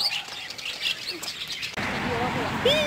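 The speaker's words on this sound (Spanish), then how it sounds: "Pajarito, pajarito." Small birds chirp and tweet in a town square, with short high calls scattered over outdoor background noise and some voices nearby.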